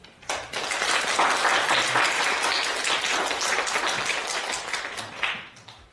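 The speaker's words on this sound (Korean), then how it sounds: "그래서 이제 박수 크게 치셔야 될 것 같습니다." An audience at a lecture claps to welcome the speaker, a steady round of many hands that swells quickly, holds for several seconds, then thins out at the end.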